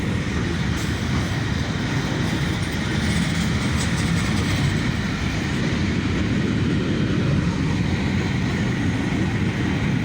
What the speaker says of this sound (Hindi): बहुत लंबी मालगाड़ी है।